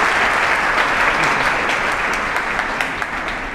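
Large audience at a coaching campus event applauding loudly, a thick continuous roar of clapping from many people that stays strong and even from start to finish.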